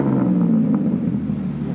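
A Ferrari 250GT's engine gives a deep, loud, steady exhaust rumble, heard up close and alone for just under two seconds.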